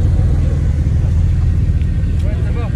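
Steady low rumble of several cars rolling past in a line at a Cars & Coffee gathering in Saint-Cloud, continuous engine drone up close with faint talk in the background.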